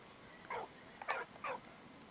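A dog in the game Valiant Hearts gives three short, faint whines or yips in quick succession, quiet and close, with nothing else around them.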